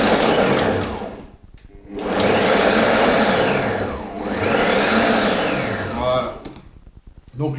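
A Fagor compact food processor pulses to chop onions and garlic in loud motorized bursts of one to two seconds each, whirring up and dropping away between presses.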